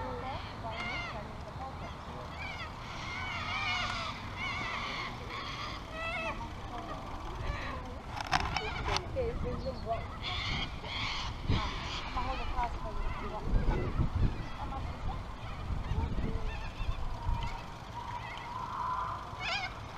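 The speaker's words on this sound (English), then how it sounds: "White cockatoos. Not the sulphur-crested ones." White cockatoos, not the sulphur-crested kind, give harsh squawking calls around an Australian village, mixed into a steady outdoor background.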